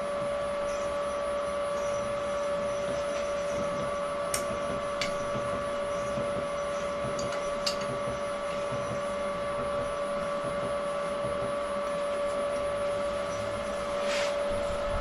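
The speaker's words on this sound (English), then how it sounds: "start the machine. And then just ever so slowly let the crank turn so it can find its happy place." A crankshaft balancing machine turns a crankshaft very slowly, giving a steady mechanical hum with a constant whine, continuous and even at close range, broken only by a few faint ticks.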